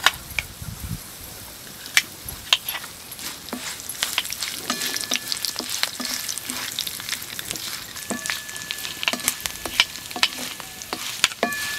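Cumin, dried red chillies and curry leaves frying in hot oil: a steady close sizzle full of sharp crackling pops, with occasional spoon clicks against the pan as the tempering is stirred.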